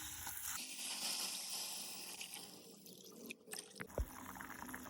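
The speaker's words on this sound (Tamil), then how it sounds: "தண்ணி சேர்த்துக்கலாம்." Water is poured into a pan of sautéed vegetables while millet is being cooked, a faint liquid splash and trickle with a sharp clatter near the end.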